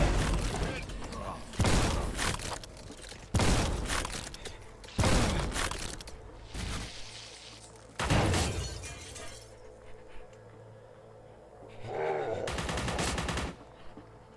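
Shotgun blasts boom in the video game Forgive Me Father, loud separate shots spaced about two seconds apart with glassy shattering tails, then quieter clatter. Someone talks between the shots.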